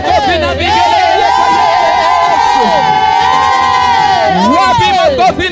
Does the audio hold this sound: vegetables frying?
no